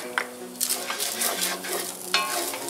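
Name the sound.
garlic sautéing with drained ground beef in pan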